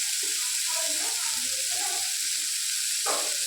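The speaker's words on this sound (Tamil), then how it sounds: "ஒரு குட்டி சைஸ் தக்காளி இதையும் வந்து சேர்த்துக்கலாம் நல்லா வதங்கட்டும்" Tomato sautés in a pan for Bombay chutney, giving a soft, steady sizzle under a voice speaking close by.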